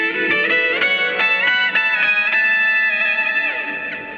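A bright, distorted synth-like guitar lead from a BOSS SY-1 guitar synthesizer plays a quick run of notes with slides and a long sustained tone, thick with effects and echo.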